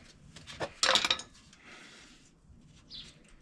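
A metal drain pan is slid and set down under the differential of a 1979 Ford F150, giving a cluster of close clanks and scrapes followed by quieter shuffling and a faint final clink.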